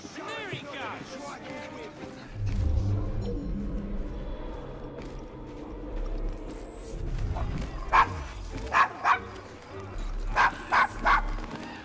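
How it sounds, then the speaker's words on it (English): A dog in the video game Assassin's Creed Syndicate whimpers and then gives a string of sharp barks near the end, following people talking in the street scene. "Is your dog quite all right?"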